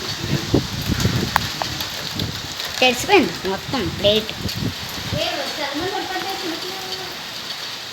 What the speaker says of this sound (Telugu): వర్షం పడిపోతుంది గైస్.